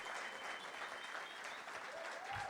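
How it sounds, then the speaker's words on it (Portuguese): An audience at a sales talk gives a round of applause for an award winner called to the stage, steady clapping from a crowd heard at moderate distance, with faint voices underneath. "Por favor, uma salva de palmas."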